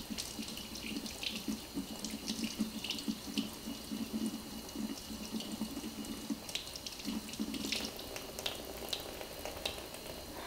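Water runs steadily from a tap into a sink while makeup brushes are washed, a continuous splashing hiss with small clinks and knocks over it, close and fairly loud throughout.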